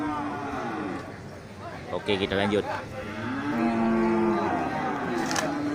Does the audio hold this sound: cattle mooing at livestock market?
yes